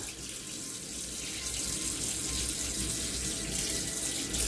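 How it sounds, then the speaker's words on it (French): A coconut shell rinsed under a running tap, a steady close hiss and splash of water pouring over the shell into a sink, continuous and fairly loud throughout. "Ma noix de coco que j'ai mis sur le côté tout à l'heure, qui avait des planeurs dessus. Là je la rince tout simplement."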